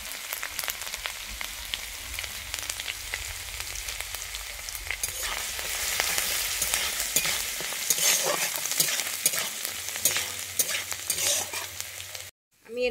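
Chopped garlic and ginger fry in hot oil for an Indian-style masala pasta, a steady crackling sizzle with scraping stirs running continuously until it cuts off abruptly near the end.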